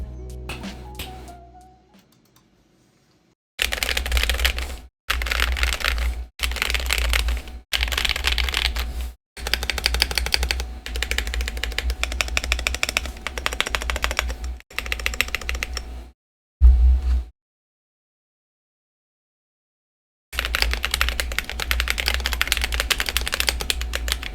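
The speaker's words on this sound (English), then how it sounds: "let's go ahead and do a sound test of this modded keyboard" Rapid typing on a modded Gamakay K61 hot-swap mechanical keyboard, crisp clacky keystrokes in steady bursts with short pauses between, close and loud with no talking.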